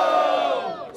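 Rap battle crowd at Batalha do Coliseu roaring and shouting together for the MC Tuzinho, a loud, dense burst of massed voices lasting about a second.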